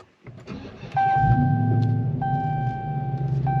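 A 797-horsepower 2021 Dodge Charger SRT Hellcat Redeye Widebody cranks and fires up close, settling into a loud, deep, steady idle rumble, with chime tones sounding inside the cabin and no speech.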